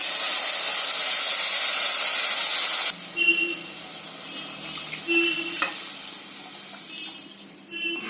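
Coconut milk poured into soaked basmati rice for coconut milk pulao: a loud, steady rushing hiss for about three seconds, then it stops, leaving quieter faint bubbling and light clinks. No talking.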